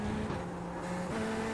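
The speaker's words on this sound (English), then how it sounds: "Accidental upshift." Corvette GT3 race car in iRacing at Brands Hatch, engine note dropping through an accidental upshift, a steady loud drone with a brief pitch step midway and no voices.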